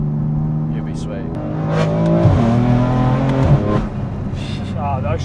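BMW F82 M4 accelerating flat out in first gear and doing a rolling burnout, a loud engine roar that climbs steadily, dips with a gear shift, then pulls again, with people talking over it inside the car.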